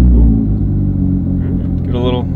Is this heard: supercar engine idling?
yes